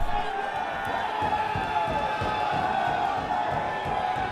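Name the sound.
wrestling crowd cheering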